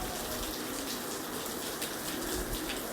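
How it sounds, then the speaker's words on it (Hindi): Heavy rain pours down in a steady, dense hiss of drops drumming on surfaces nearby, continuous and loud throughout with no voices. "बारिश की स्पीड भी बढ़ गई है"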